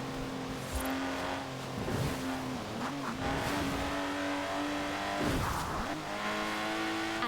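A Lotus Exige in the racing game Forza Horizon 4 drives hard, its engine note rising and falling through repeated gear changes and revs, with brief tire squeals, loud and continuous with no talking.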